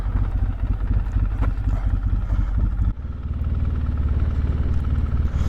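A 2022 Polaris Sportsman 570 ATV rides over deep ruts, its engine a steady loud droning growl close to the microphone with a brief dip partway through before it pulls on.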